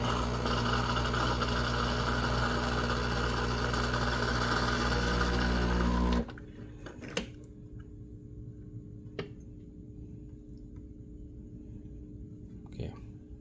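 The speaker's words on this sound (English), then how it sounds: "first thing is I'll run some empty shot to warm up the loop head" A home espresso machine runs an empty shot to warm up the group head and cup, a loud steady pump drone for about six seconds that then cuts off, leaving quiet room tone and a few faint clicks.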